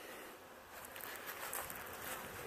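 Many bees hum and buzz around a sugar feeding station, a soft continuous drone with faint fluttering passes nearby, quiet and without voices.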